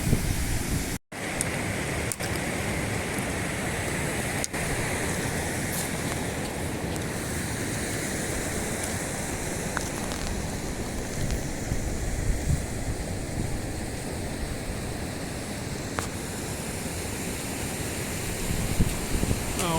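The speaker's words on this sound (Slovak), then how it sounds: "Vodopád skok." Skok waterfall in the Tatra mountains gives a loud, continuous broadband roar close by, with occasional wind buffeting on the microphone and one brief dropout near the start.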